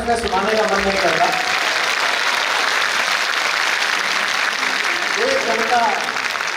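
An audience at a poetry recital in Lucknow keeps up sustained, moderately loud applause, with a voice speaking briefly at the start and again near the end.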